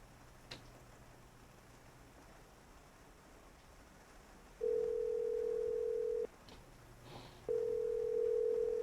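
A phone call ringing tone on a telephone line: two long, steady electronic tones, each lasting about a second and a half, separated by a pause, heard clearly over faint background hiss.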